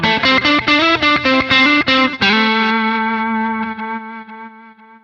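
Electric guitar played through a Quad Cortex reverse delay set to about 500 milliseconds with ducking on: a loud, fast picked phrase of steady notes, then a sustained chord ringing out as swelling delayed repeats bloom and slowly fade, with no talking.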